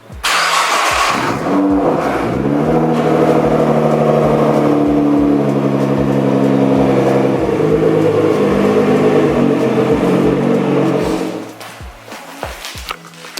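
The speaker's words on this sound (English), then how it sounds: "this has a 4-inch exhaust system. Let's get a warm start up in the garage." Nissan GT-R Black Edition with a 4-inch exhaust fires up warm inside a garage: a starter whirr, then a loud rumbling idle with a couple of revs, echoing off the walls before cutting off near the end.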